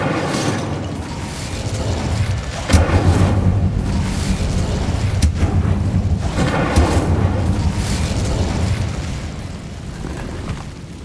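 Incendio fire spell cast in the Hogwarts Legacy video game, a loud sustained whooshing roar with booming bursts near three and five seconds over a dense low rumble, steady throughout and easing near the end.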